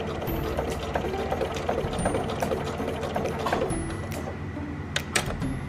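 A sewing machine runs steadily while stitching a stitch sampler, its continuous close mechanical whir holding at an even level with faint clicks on top throughout.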